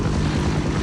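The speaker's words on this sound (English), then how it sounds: "there's the chopper that's pulling us all out" Helicopter in the video game Half-Life: Opposing Force, a loud, steady low rotor-and-engine drone filling a very brief moment with no pause.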